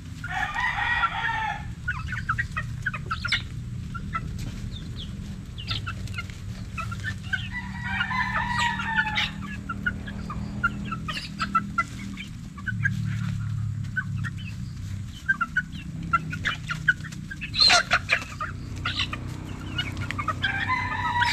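White-legged claret gamefowl around two and a half months old clucking steadily at close range, with a rooster crowing several times over the ongoing chatter of the flock.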